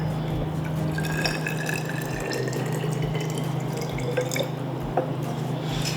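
Water being added to a jar of freshly grated skin-on ginger and raw sugar for homemade ginger beer, heard as a close, continuous trickling and splashing fill with small drips and no voices.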